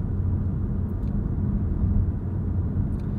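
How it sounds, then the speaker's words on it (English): Steady road and tyre rumble inside a 2023 Kia Sportage LX at highway speed, a low, even drone with no talking. "My Apple Watch picks up 65 decibels of road noise."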